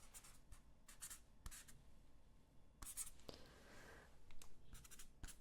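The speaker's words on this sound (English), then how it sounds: "let me just finish up with my sketch here" Pen sketching on paper in a quiet room: soft, irregular scratchy strokes come in short bursts with brief pauses, close and faint, and there is no talking.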